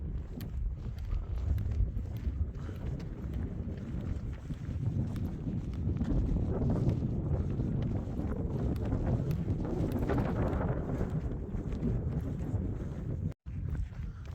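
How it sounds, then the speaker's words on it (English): Wind buffets a microphone outdoors on a hiking trail along the Continental Divide Trail, a loud, steady low roar lasting throughout with slight surges and no talking. "It's weird, the wind is blowing pretty good"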